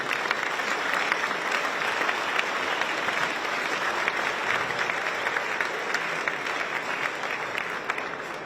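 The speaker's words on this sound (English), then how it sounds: "we should give them all a big round of applause" A long round of applause from an audience at a West Virginia governor's event, dense crowd clapping holding steady and loud throughout, thinning only slightly at the close.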